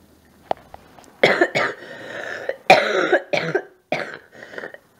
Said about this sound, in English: I have a very raspy cough.